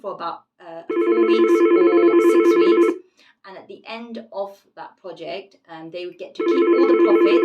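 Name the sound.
phone ringing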